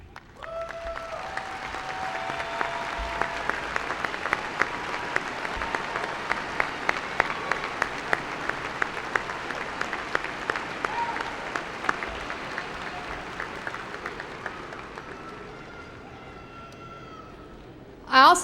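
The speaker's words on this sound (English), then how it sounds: "Please, all of you stand so we can recognize and applaud you." At a university commencement ceremony, a large crowd claps for the graduates' standing families, a broad sustained wave of applause that holds steady for about eighteen seconds before ending with a sudden loud bump.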